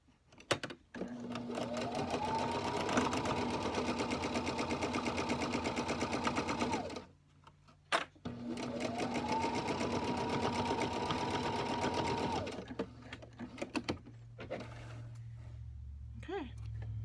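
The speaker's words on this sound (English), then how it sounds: "And then I'm going to sew this side." A sewing machine stitches the side of a cotton face mask in two long runs of rapid, even whirring, each swelling up and stopping abruptly, with a short pause between and soft handling noises after.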